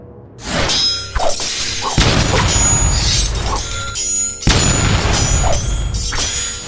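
Loud, rumbling impacts and crashing blasts with whooshing debris, layered heavily and continuously like action sound effects.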